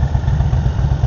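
A Harley Sportster motorcycle engine idles close by, a steady low, lumpy rumble with clattery pulses throughout the short moment.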